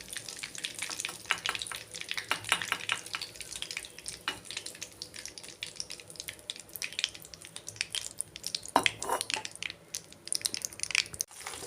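Prawns frying crisp in hot oil with garlic, a dense crackling sizzle with irregular pops and spatters, close and continuous, no one talking.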